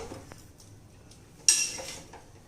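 Food being transferred into a serving bowl in a home kitchen after cooking, with soft scrapes and a sharp clink of a utensil against the bowl partway through, close and fairly quiet.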